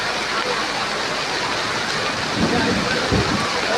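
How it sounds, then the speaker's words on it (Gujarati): Unseasonal summer rain pours down in Lakhanka, Bhavnagar, Gujarat, with a dense, even hiss that stays loud throughout, a little heavier toward the end. "કાળે ઉનાળે વરસાદ જુઓ"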